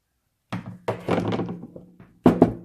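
Plastic part of a food processor lifted off its hinges, giving a few close, hollow clunks and knocks with short pauses between them, no talk.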